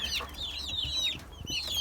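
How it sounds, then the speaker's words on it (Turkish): Village hens cluck and chatter softly in a coop in short, uneven bursts, several birds close by over a quiet background. "Burada köy civcivlerimiz var."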